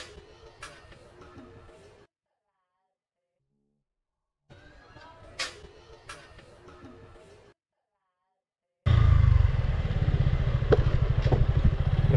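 Suzuki Gixxer 155 Fi motorcycle performing a rev-match downshift, with two short bursts of engine noise separated by near silence, then a loud, steady roar that runs to the end.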